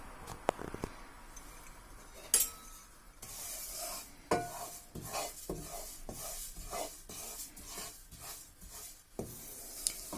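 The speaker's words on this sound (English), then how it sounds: "We will let the sesame seeds roast for some time." Sesame seeds roast in a hot pan for a pumpkin dish while a ladle stirs and scrapes them steadily, a close, dry rustling sizzle broken by sharper knocks of the ladle against the pan.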